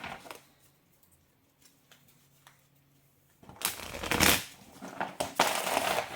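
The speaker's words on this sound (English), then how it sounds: "I'm going to shuffle again." Tarot cards are shuffled in a loud, dense burst of riffling and flapping, coming after several seconds of near silence with a few faint taps.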